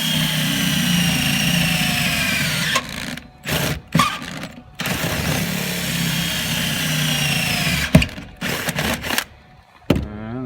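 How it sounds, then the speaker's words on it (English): A power drill whirs steadily at close range, drilling a hole in a GMC Sierra during a car audio install, with brief gaps where the motor stops and restarts, ending in short bursts. "he's currently drilling the hole"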